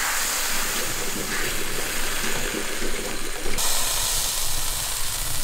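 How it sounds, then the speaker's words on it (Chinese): A wok is rinsed out with running water in a kitchen, a steady rushing splash and hiss close by, its tone shifting partway through as the flow changes. "先洗锅"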